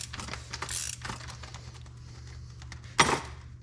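A mechanic tightens rear brake caliper bolts on a 2019 Ford Transit van, making a series of light metallic ticks and clicks at close range, followed by one sharp, louder clack near the end.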